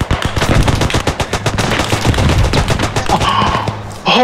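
Rapid trench gun blasts in the World War I shooter Beyond The Wire, a loud, dense burst of repeated shots across the battlefield with near-constant gunfire, ending in a brief sharper sound.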